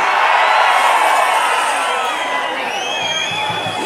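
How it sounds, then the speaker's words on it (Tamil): A large crowd at an AIADMK political rally in Pudukkottai cheers and shouts loudly, a sustained roar with whistles cutting through near the end. "எழுச்சி மிக ஆரவாரம்."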